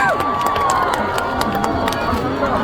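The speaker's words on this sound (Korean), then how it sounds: "음악 주시고 박수 주시고 함성 주시고" Crowd at an outdoor seaside village festival concert cheers loudly, a dense sustained roar of shouts and whoops with a whistle-like tone at first, continuous and close.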